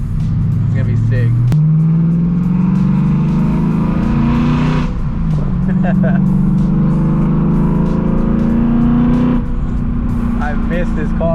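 BMW E92 M3 drifting on a wet road, its engine droning steadily with rising and falling revs as it slides through the turns, close and loud throughout, with a passenger voice talking over it.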